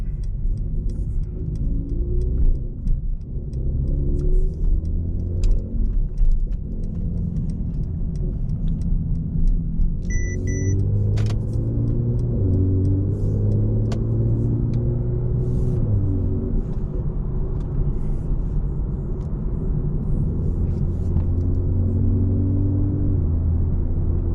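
A Stage 1 tuned Mercedes C43 Coupe, rated at 430 hp, rumbles steadily from inside the cabin on a test drive, its low engine drone rising and falling with throttle changes and one brief click partway through.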